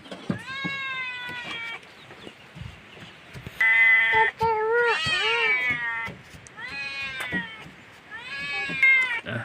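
A cat meows repeatedly near food being cooked, several drawn-out, insistent cries in clusters, fairly close and clear, including a louder, wavering yowl midway.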